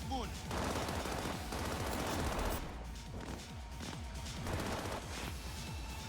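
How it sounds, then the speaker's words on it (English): A sustained shootout in Cyberpunk 2077, with overlapping rapid gunfire and machine-gun bursts rattling continuously, loud and dense, with faint voices mixed underneath. "And now they're all shooting each other."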